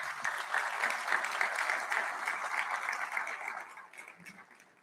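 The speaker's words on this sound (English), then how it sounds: "Let's give him a round of applause." Audience applause at a university president's spring address honoring a Sacramento State alumnus, a broad wash of many clapping hands held steady for several seconds before slowly thinning and fading, heard alone without speech.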